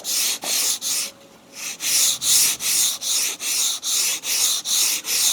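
Hand sanding on a roof with 100 grit sandpaper, close and loud, in a steady rhythm of about a dozen even back-and-forth rasping strokes with one short pause early on.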